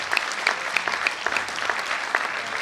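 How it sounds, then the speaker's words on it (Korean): Audience applause at a Korean peace and reunification prayer gathering, a dense, steady wash of many hands clapping close by, sustained throughout with no talk over it. "좀 다시 한번 뜨거운 박수로 축하해 주시기 바랍니다."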